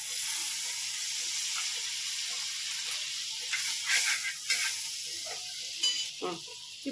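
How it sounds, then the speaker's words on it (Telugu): Butter sizzling in a hot pan ahead of frying pav for pav bhaji, a steady close hiss with scattered stirring clicks and scrapes building toward the end, no talk. "పాన్ హీట్ అయిన తర్వాత బటర్ వేసుకుందాం"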